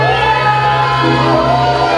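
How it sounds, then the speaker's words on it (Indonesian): A church congregation at a Christmas-season service shouts hallelujah together in a loud, sustained crowd cheer, voices blending into one strong, echoing roar. "Sorakan haleluya yuk sekali lagi, haleluya."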